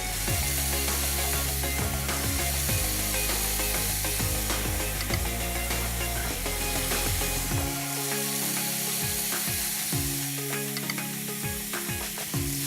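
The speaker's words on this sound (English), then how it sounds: "We just want to heat, get some nice grill marks on there." Sriracha-glazed tofu skewers sizzle on a hot grill, a steady, loud frying crackle running throughout with a few clicking and scraping sounds layered on top.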